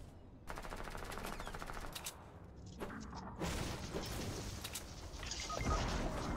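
Video game gunfire in Fortnite, with rapid automatic bursts and clattering shots coming in waves, followed by a denser, louder exchange of fire and crashing impacts near the end, with no voices.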